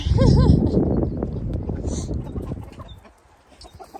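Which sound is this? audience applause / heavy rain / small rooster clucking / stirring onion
small rooster clucking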